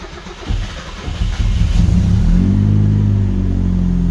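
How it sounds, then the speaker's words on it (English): Honda S2000 engine cold-starting in an enclosed garage: a short crank, then the engine catches and settles into a loud, steady, rumbling idle close by. "Cold start."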